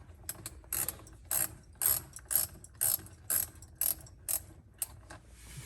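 A wrench ratcheting on a bolt being tightened, about ten crisp, evenly spaced bursts of clicking, close and fairly quiet against a faint background.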